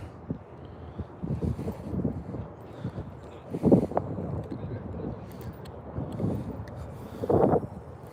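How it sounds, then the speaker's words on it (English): Wind blowing at a canal during ultralight spinner fishing, gusty rumbling buffets against the microphone rising and falling, with someone talking intermittently over it. "I'm kind of fighting against the wind."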